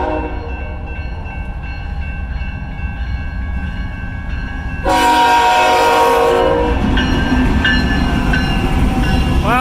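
A GE Evolution series locomotive rolls past at Burlington, Iowa, a loud, steady train rumble with horn tones, growing louder and brighter at mid-clip as the engine draws close alongside.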